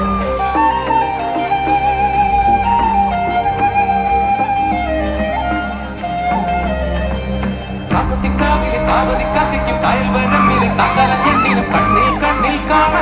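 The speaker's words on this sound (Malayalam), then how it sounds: "നമ്മളൊരു കുടുംബം പോലെ അങ്ങോട്ട് കൈയടി വേണം എനിക്ക്" Concert crowd at a temple festival stage show in Malayalappuzha cheers, whoops and shouts over loud live music and singing, a continuous roar throughout.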